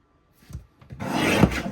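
A sheet of white linen paper is cut on a paper trimmer: a couple of soft scrapes, then a close, loud rasping slide of the blade across the sheet.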